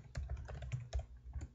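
Fingers type quickly on a computer keyboard close by, a rapid uneven run of sharp clicks and key thumps over about a second and a half, with no talking.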